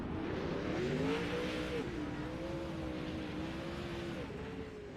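360 sprint cars racing on a track, several engines droning and rising and falling in pitch as they sweep past, steady and moderately distant with no voices.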